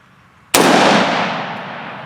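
A single loud, close gunshot from a Ruger Mini-14 rifle, a sharp crack followed by a long echoing decay outdoors.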